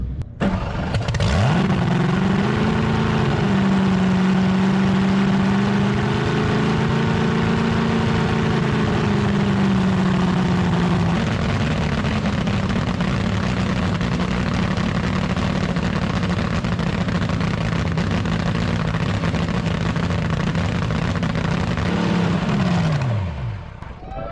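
A 390P engine built to a 1964 design fires up and runs with the magneto on, a loud, steady low drone that shifts pitch slightly early on, then holds evenly before cutting off.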